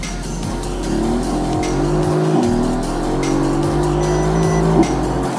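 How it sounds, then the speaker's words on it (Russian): A Mercedes AMG GT S accelerates hard, its engine revving loudly and rising in pitch through several quick gear shifts, with each shift marked by a brief drop before the next climb. "жмем резко газ в пол, и у вас моментально вторая, и начинается ускорение просто всеми возможными силами"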